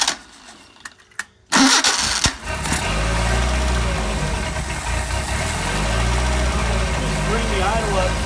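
A Solex moped engine catches after a few faint clicks and knocks, then settles into a steady, loud, close idle that runs continuously to the end.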